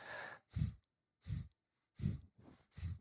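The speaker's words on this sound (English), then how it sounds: "short and choppy exhalations through the nose" Four sharp, forceful nasal exhalations of Kapalabhati breathing in a steady rhythm, each a short puff of breath with brief pauses between, close and clear.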